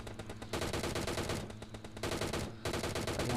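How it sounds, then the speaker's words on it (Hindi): Rapid automatic gunfire from the game PUBG rattles in dense, loud bursts separated by brief pauses, fired close up in a continuous barrage. "इस पर मैंने खूब गोली चलाई कि अचानक से मेरी गोली खत्म हो गई"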